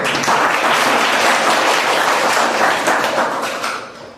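Participants at a drama workshop break into loud, sustained clapping that fills the room for about four seconds before fading away, with no voices heard over it.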